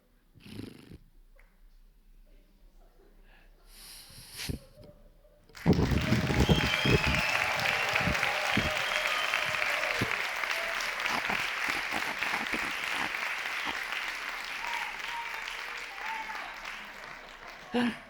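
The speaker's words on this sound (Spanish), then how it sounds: "Gracias, muchísimas gracias por este espontáneo aplauso" Spontaneous audience applause at a live theatre show breaks out suddenly after some quiet stage noise, building into a loud, dense, sustained round of clapping that slowly tapers toward the end.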